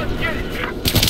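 Battlefield 4 gunfire during an Obliteration match, a couple of sharp loud shots near the end over a steady low rumble of battle, with voices talking.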